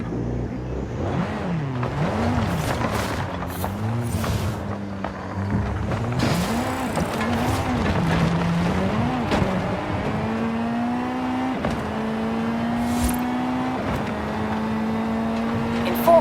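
A Volkswagen Golf GTI engine races in Forza Horizon 5, revving up and down through repeated gear changes before settling into a steady, loud high-RPM drone, with a few faint clicks and game sounds mixed in.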